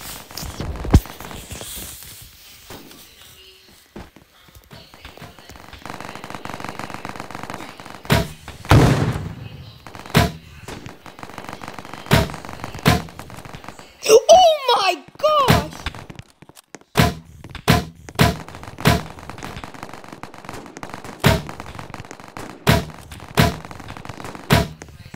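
Repeated sharp shotgun blasts in an online shooter video game, loud and spaced irregularly in quick bursts, with brief electronic effects in between.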